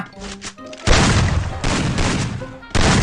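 Video game shotgun fire comes as loud, close blasts that fill the clip in long, dense bursts, broken by short gaps with brief tonal game sounds.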